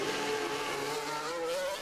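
Race car engine in F1 Manager 24 leaving the garage, a steady droning engine note with a rising pitch, moderately quiet and heard alone.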